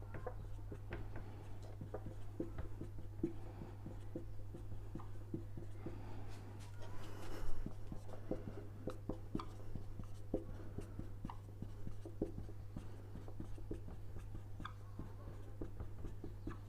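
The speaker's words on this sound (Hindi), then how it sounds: "सब लिखते चले जाएंगे।" Pen scratching on paper while a matrix problem is worked out, faint rapid strokes and ticks running steadily over a constant low hum.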